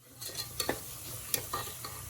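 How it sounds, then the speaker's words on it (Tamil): Ginger garlic paste sizzles gently in a pan for a village-style chicken curry, with a spoon scraping and stirring in a short series of soft strokes, fairly quiet and close. "இப்போ இஞ்சி பூண்டு நல்லா வதங்கிடுச்சு."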